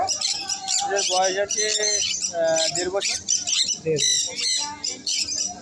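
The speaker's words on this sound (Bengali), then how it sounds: "এই জোড়া দুটো কি আছে এটা ব্লু মং প্যারাকিট" A pair of blue mong parakeets squawk repeatedly at a busy bird market. Their harsh, close calls mix with people talking nearby.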